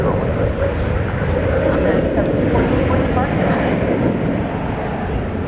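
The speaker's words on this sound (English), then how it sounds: "This is an Airbus A321 on runway DFW." An Airbus A321 airliner on the runway at DFW airport sends out a loud, steady low roar of jet engine noise that fills the scene without pause.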